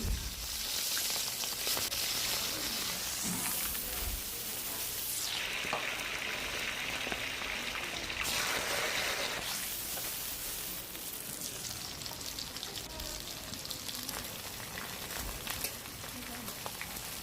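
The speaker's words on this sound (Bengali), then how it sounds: "মাছটা একটা পাস ফ্রাই হতে প্রায় চার থেকে পাঁচ মিনিট সময় লাগে" Hilsa fish frying in mustard oil in a pan, a steady bright sizzle and crackle held at moderate level throughout, with a brief swell of louder spitting partway through.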